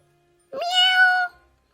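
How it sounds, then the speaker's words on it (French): A single cat meows in one drawn-out, tonal call lasting under a second, heard alone against near silence, moderately loud rather than far off. "il entendit des miaulements au loin"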